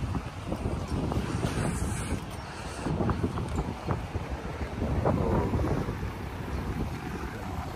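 Steady wind gusting across the microphone on a harbour cruise boat at Tsim Sha Tsui, Hong Kong, over the low rumble of the boat's engine and water, continuous throughout with no talking.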